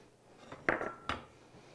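A spoon or spatula knocks and scrapes against a bowl while almonds are folded into a banana bread pudding mixture, with two distinct clinks amid soft stirring, quiet and close.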